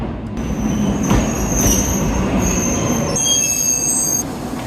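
A Z800 Mont-Blanc Express train on metre-gauge mountain track rolls steadily along with a loud, continuous rumble, while high, sustained wheel squeals rise and shift over it, growing sharper toward the end.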